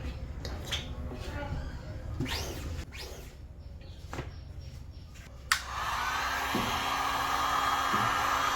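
Hair dryer blowing hot air onto freshly screen-printed ink on a t-shirt, a steady broadband whoosh switching on partway and running continuously and close after earlier clattering handling sounds.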